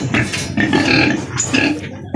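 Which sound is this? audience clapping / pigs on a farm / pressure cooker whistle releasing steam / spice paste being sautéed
pigs on a farm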